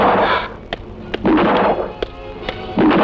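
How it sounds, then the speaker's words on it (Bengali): Gunshots ring out in a Bangla movie scene, a rapid series of sharp, loud bangs roughly every half second over a burst of rumbling, echoing noise. "শহরটা যে কি হইল, যেখানে যাই খালি গুলির শব্দ।"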